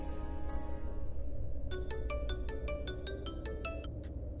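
A phone ringtone plays while a call is placed, a quick run of bright repeated electronic beeps in a rhythmic burst over a steady low background hum, moderately loud with no talking.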